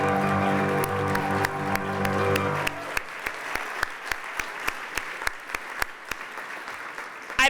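Sustained audience applause at a 2019 LitFest gala, loud and dense, with a voice over it at the start, then continuing as steady clapping with some sharper individual claps.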